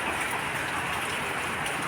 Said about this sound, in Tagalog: alas 3 pa lang naman tapos umulan na agad